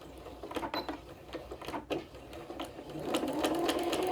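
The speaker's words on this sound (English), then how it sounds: "I'm going to go ahead and do a quick back stitch." A sewing machine back stitches along the facing of a quilt, running close and steady with a rapid mechanical chatter and a brief pause before the stitching carries on.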